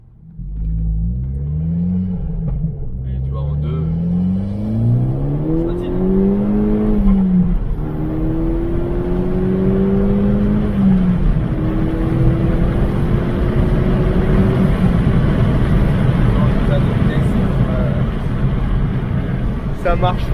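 A 2010 Seat Leon Cupra R, Stage 2 tuned, accelerates hard with wheelspin in second gear, its engine rising in pitch through the gears as a loud, steady in-car roar under people talking.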